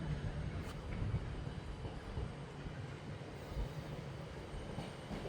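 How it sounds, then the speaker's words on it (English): A Buxton-bound train pulls into Stockport station, a steady low rumble of wheels and engine, fairly close, with faint rail squeal and clatter and no talking. "as the Buxton train finally turns up"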